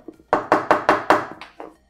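About six sharp knocks on the pure metal body of a Prama bullet IP camera, quick close raps in an uneven rhythm, the last two lighter, with no talk.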